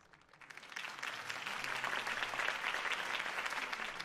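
Applause from a crowd in the Telltale Batman video game swells quickly and holds as a dense, steady wash of clapping, fairly loud and sustained.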